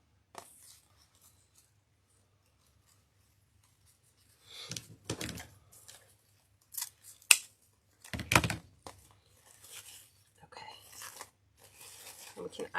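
Scissors trimming ribbon for a Valentine's Day wreath bow: a few quick, crisp snips and rustles of ribbon come in short bursts after a quiet start, close up, with soft talking mixed in.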